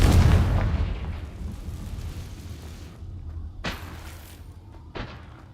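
Confringo explosion spell going off in a magic video game: a loud opening blast that decays into a long rumble, followed by two sharp bursts.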